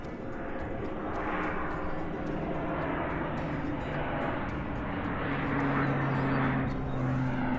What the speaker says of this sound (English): and we got a crop duster.